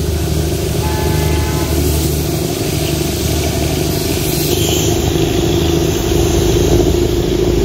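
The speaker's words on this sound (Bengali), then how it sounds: "মা, টয় ট্রেন আসছে।" A toy train passes along a hill line through pine forest, its steady engine rumble and rolling wheels loud and close throughout, with a high sustained horn tone entering in the second half.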